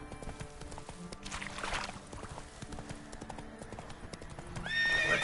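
The horse Roach in The Witcher 3: Wild Hunt galloping, quick clip-clop hoofbeats at moderate distance with a whinny, quiet overall and building toward the end.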